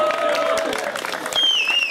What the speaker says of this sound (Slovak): najväčší potlesk pre našich chlapcov